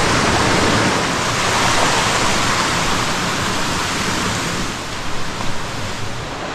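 Widow's Creek Falls gives a loud, steady broadband rush of falling water that continues unbroken for several seconds with no voices, easing slightly near the end.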